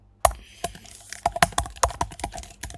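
Brisk typing on a computer keyboard during a Django coding session, a dozen or so sharp, uneven clicks tapped in quick bursts, close and clear with no voice over them.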